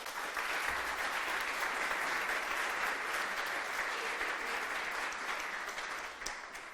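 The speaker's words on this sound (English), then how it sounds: "Big round of applause for Ghent and for Belgium." Steady, dense applause from a conference audience at a programming event in Ghent, Belgium, sustained evenly for several seconds before tapering slightly at the end.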